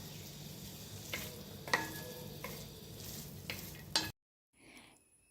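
Dragon chicken being stirred in a pan on the stove, soft sizzling with a few scraping clicks of the spoon, quiet and close, ending abruptly in near silence.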